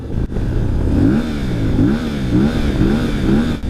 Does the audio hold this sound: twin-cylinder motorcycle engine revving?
yes